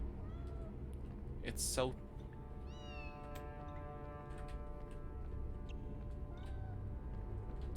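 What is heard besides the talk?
kitten meowing in Harry Potter video game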